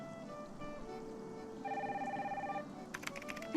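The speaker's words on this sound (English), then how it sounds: "Nancy, get the phone." A telephone rings in the video game Nancy Drew: Danger by Design, a repeated electronic trill heard faintly over a low ambient background, followed by a brief clatter.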